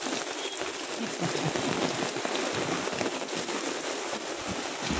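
Heavy rain pouring steadily on surfaces nearby, a dense hissing patter with occasional louder drops, no voices.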